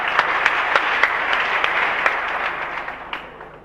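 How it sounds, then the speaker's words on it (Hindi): A neighborhood crowd claps together in steady, dense applause with sharp individual claps standing out, holding loud for about three seconds before thinning out and fading at the end. "अबे पूरा मोहल्ला ताली बजाता है"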